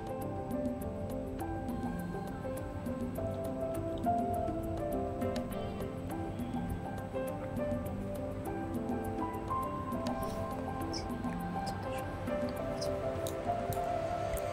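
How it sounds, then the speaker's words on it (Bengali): Thin-sliced potatoes frying in hot mustard oil in a wok, with a steady, moderate sizzle that holds throughout and a few faint light clinks. "এবার আলু কেটে রেখেছি একটু পাতলা পাতলা করে, আলুটা আমি ভেজে নেব।"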